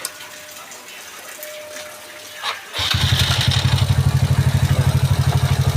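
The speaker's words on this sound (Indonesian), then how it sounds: "Coba sekali lagi kita starter." Bored-up Yamaha Mio 155cc motorcycle engine being started, a brief whir of the starter after a quiet moment, then the engine catches into a steady, close, rapid idle putter that continues to the end.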